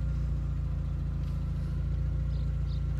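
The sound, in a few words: 2003 VW Golf GTI engine running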